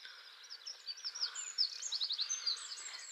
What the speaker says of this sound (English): Sound of the birds.